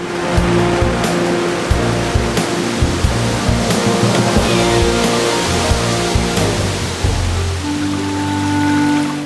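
Waterfall cascade at Krka National Park, Croatia, water plunging toward Lake Visovac through the trees: a steady, dense, full-band roar of falling water, loud and constant throughout with no voices.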